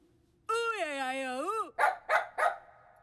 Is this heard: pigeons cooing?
no